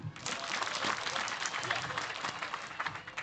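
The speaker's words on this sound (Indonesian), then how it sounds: "Tepuk tangan" Dense applause from a crowd, a steady wash of many hands clapping, moderately distant and sustained throughout.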